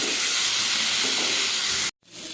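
Taro pieces sizzle loudly in hot oil in a pan with salt and turmeric, a dense continuous hiss that cuts out abruptly, then resumes more quietly.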